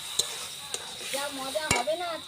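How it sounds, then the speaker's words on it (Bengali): Spice paste frying in a pan for a home-cooked chicken curry, with a spoon clinking and scraping the pan in a few sharp strikes over a steady sizzle, and a voice talking faintly in the background. "মশলাটাকে একটু কষে নেব"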